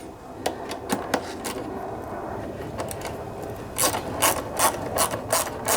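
Close clicking and ratcheting as a square nut is tightened onto a plastic handle of a Craftsman, MTD, Troy-Bilt or Yard Machines lawnmower, with bursts of rapid clicks growing louder toward the end over low room noise.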